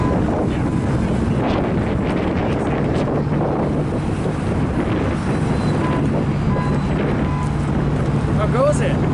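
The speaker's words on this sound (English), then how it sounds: "But it is pretty windy here today in Nampa." Strong wind buffets the microphone outdoors in Nampa, a loud, steady roar with rumbling gusts throughout and no clear speech.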